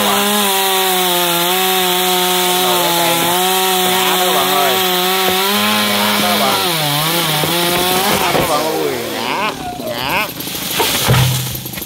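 A loud chainsaw drones steadily as it cuts a very large golden wattle tree, its pitch dipping and wavering under load near the end as the blade bites into wood.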